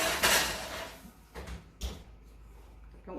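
An oven door opens and pound cake pans are set inside, a soft thump followed by two brief metallic knocks and clatters, close and moderately quiet, with no talking.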